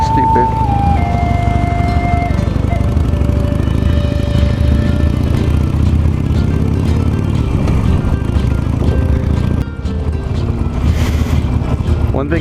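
A 17-year-old Harley-Davidson Nightster motorcycle ridden in wet conditions. Loud, constant wind buffeting roars over a steady engine drone for the whole stretch, with a slight dip in the roar near the end.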